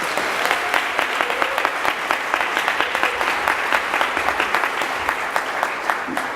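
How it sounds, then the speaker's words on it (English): Sustained round of applause from an audience at a university presidential lecture, steady dense clapping holding at even loudness throughout with no speech over it. "So let us please give Andre another rousing round of applause."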